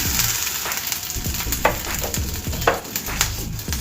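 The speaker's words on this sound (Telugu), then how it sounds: "వీటిని వేసుకొని ఒక 5 మినిట్స్ మనము వీటిని మీడియం ఫ్లేమ్ మీద వేయించుకోవాలండి" Green peas fry in a quarter teaspoon of oil over a medium flame for matar kachori, giving a steady close sizzle broken by a few sharper scrapes and stirring knocks.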